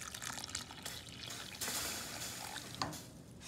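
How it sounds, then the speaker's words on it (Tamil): Hot water poured from a glass into a pot on the stove for making ragi kali, a soft steady pour with a brief splashy burst near the end, no talking. "இதில் நான் வந்து ரொம்ப சுட தண்ணி வந்து ஒரு கிளாஸ் ஊற்ற போகிறேன்"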